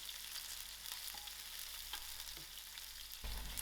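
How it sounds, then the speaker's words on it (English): Onions fry in a pan with a soft, steady sizzle, with occasional faint clinks and stirring, close and quiet with no voices. "I'm going to allow these onions to fry out."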